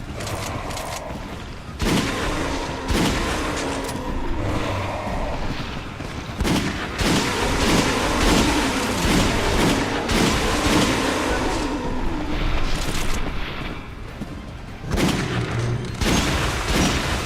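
Gunfire in a Resident Evil game, with repeated shots and bursts in rapid clusters across the whole stretch, loud and close, punctuated by heavier booms, with no speech over it.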